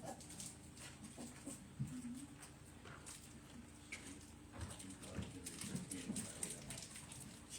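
A dog whimpers and whines in soft, intermittent bursts against a faint indoor background, with occasional low murmurs from people nearby.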